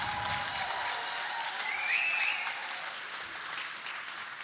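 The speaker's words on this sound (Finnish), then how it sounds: "Annetaan isot taputukset" Audience at a comedy roast applauding, a steady, dense wash of clapping filling the room for several seconds at full volume, with a brief whistle partway through.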